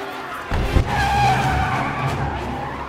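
In an Iron Man 2 scene, a car pulls away hard with a sharp tire screech and a low engine surge, the squeal holding loud and close as the vehicle speeds off.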